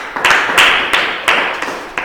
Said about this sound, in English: Let us give them a clap.